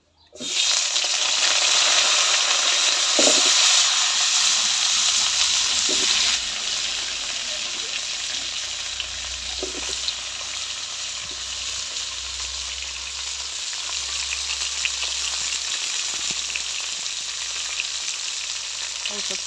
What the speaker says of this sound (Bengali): কড়াতে একটু তেল দিয়ে দিলাম সবজিগুলো বাইজা নিব কপি আলু বাগুন আর ফুলকপি একসাথে সব বাইজা নিব